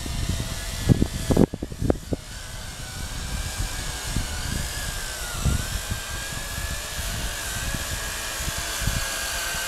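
Ares Ethos HD FPV drone flying in strong wind, a steady high buzzing whine of small propellers with shifting pitch, with gusty low rumble and a few sharp thumps near the start.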